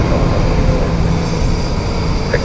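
Aircraft engine roaring steadily and loudly at London City Airport, a broad continuous drone with low rumble sustained throughout, no voices.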